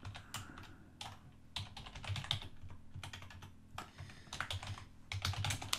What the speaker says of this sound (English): I'll go to create a new email as normal, type in the recipient's name